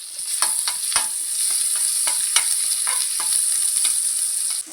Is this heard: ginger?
yes